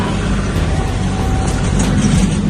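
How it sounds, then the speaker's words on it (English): A limousine engine idles loud and rough with a broken exhaust, giving a steady, close, droning rumble heavy in low tones. "I forgot we broke the exhaust on this thing. Yeah, that sounds funny."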